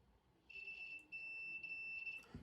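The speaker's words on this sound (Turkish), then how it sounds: "Ölçü aletini Buzzer konumunu aldım" A multimeter's continuity buzzer gives a steady high-pitched electronic beep twice, a short tone then a longer sustained one, clear and close against quiet background hiss, while a mosque loudspeaker is tested.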